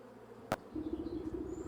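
Bees in the Wytchwood game hum with a faint, steady buzz, broken early by a single sharp click before the low drone carries on.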